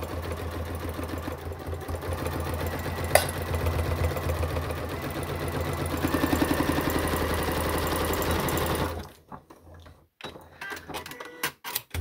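A sewing machine stitches a handbag seam in a steady, fast, continuous whir for about nine seconds, close and loud, then stops, leaving quiet handling noises and a few small clicks.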